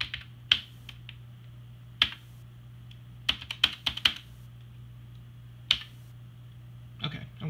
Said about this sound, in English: I can just hit a bunch of keys, and as you can see, everything is just as responsive as if I am typing it